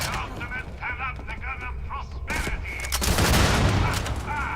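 Gunfire in the video game Starfield: bursts of shots ring out over a noisy firefight, with chirpy tonal effects and voices early on before a heavy, sustained volley of fire takes over.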